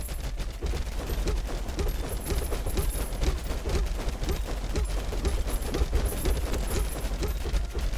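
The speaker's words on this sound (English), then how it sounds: "shooting thousands of projectiles at once is so satisfying" Thousands of projectiles fire at once in the video game Tower of Babel: Survivors of Chaos, a dense, unbroken barrage of rapid shots and impacts, loud and steady throughout, with no speech.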